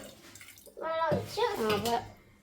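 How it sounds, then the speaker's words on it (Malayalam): Water poured into a pot of shark curry, a liquid splash and gurgle lasting over a second, with soft clatter and a voice talking underneath. "ഇനി ഇച്ചിരി വെള്ളം കൂടി ഒഴിക്കാം"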